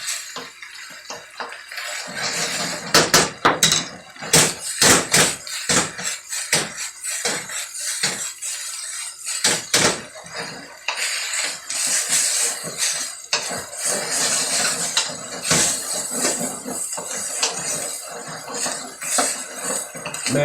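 A metal utensil scrapes and clatters against the bottom of a pan while beef stir-fries, irregular sharp scrapes and knocks over a sizzling hiss, close and without talk.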